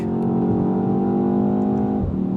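A 2024 BMW X1 M35i engine accelerates hard, with a loud, steady rising drone and strong harmonics from inside the cabin, then a quick drop in pitch near the end as the gear changes.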